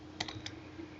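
A few quick keystrokes on a computer keyboard, light close clicks in a short burst over a steady low background hum.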